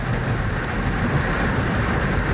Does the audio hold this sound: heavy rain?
yes